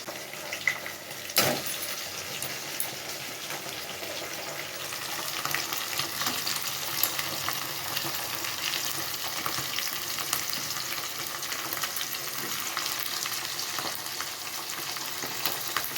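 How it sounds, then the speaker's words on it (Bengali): Washed chicken pieces fry with onions and spices in hot oil while being stirred, giving a steady, moderately loud sizzle with scraping and clattering from the spoon throughout, plus one sharp knock near the start. "মাংসটাকে ভালো করে পেঁয়াজটার সাথে একটু নেড়ে ছেড়ে নেব"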